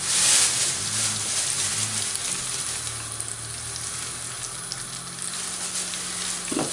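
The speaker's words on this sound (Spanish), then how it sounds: "hemos rebozado la mitad y lo vamos a freír" Battered mackerel frying in hot oil, a dense, steady close sizzle that runs throughout without pause, loud and uninterrupted, with no voices.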